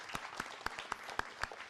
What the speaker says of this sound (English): Big round of applause for Ajay ji